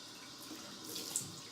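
Cold water runs steadily from a bathroom tap into a sink, a soft continuous splashing stream heard close up without talk.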